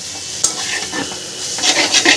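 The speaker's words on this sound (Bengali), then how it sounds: "ম্যাগিটাকে দিয়ে ভালো করে এবার নাড়াচাড়া করে নেব" Boiled Maggi noodles stirred in a pan with a utensil, giving close, steady scraping and soft wet sizzling, with a few sharper clinks of metal against the pan.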